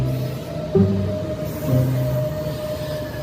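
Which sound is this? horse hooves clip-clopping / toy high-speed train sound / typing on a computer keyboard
toy high-speed train sound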